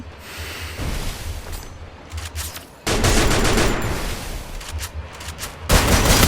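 Rapid bursts of gunfire, including shotgun blasts, crackle loudly in the battle royale game Free Fire, coming in dense clusters separated by brief lulls, with no talking over them.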